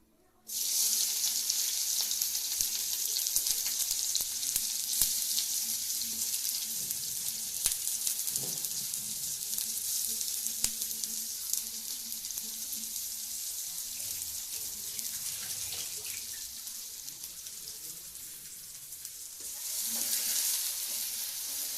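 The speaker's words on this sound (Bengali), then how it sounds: "তেল গরম হয়ে গেছে পেঁয়াজটা দিয়ে দিই" Steady, loud sizzling of onion frying in hot oil, continuous hiss throughout with faint clinks, no talking.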